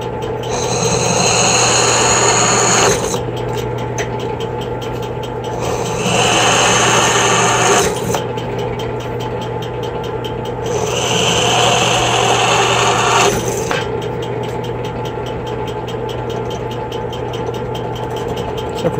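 A handheld power drill bores cooling holes into the casing of a 2000W 48V brushless e-bike hub motor, its loud whine rising in three long bursts over a steady hum, close and with no voices.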